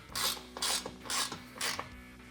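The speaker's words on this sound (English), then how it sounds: "because we didn't tighten down that screw all the way, we're gonna grab our 5/32 Allen" A 5/32 Allen key tightens a screw on a Prinsu Pro window panel on a Toyota FJ Cruiser, heard as four quiet, evenly spaced ratcheting clicks and scrapes close up, with no talking.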